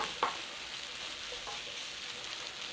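Tomato paste fries in a pan for a Guinness shepherd's pie, a steady soft sizzle with a brief scrape of stirring near the start.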